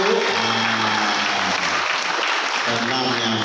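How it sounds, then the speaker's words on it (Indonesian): An audience of parents claps at a school Quran memorization ceremony, a steady round of applause under a speaker's voice that carries on through most of it. "Tepuk tangan dong Bapak Ibu."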